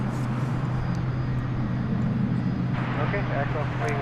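A tri-jet airliner at DFW Airport at night, its steady low engine rumble holding loud and continuous throughout, with a person talking over it.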